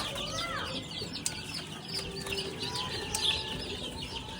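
Day-old chicks of Golden Boy sweater and white kelso chickens, fresh from the incubator, chirp and peep constantly in a busy, overlapping chorus, close by.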